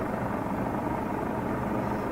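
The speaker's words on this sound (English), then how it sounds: "Yeah, it looks like a medical helicopter" A medical helicopter flying overhead gives a steady, loud, continuous rotor and engine roar throughout, with no voices.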